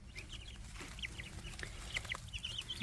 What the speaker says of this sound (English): Chickies are outside.